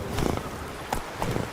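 Horse hooves clip-clopping at a gallop in The Witcher 3: Blood and Wine, a few quick thudding bursts of hoofbeats in short rhythmic clusters, moderately close with some game ambience.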